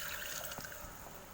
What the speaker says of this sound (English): Now I want gravy, so I am adding water at this stage.